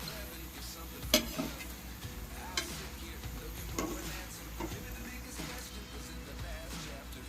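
Snacks fry in hot oil with a steady, close crackling sizzle that runs throughout, broken by occasional stirring clicks and scrapes from a utensil.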